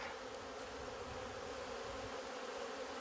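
Honey bees trapped in a jar dusted with powdered sugar for varroa mite monitoring, a faint continuous buzzing hum with no voices.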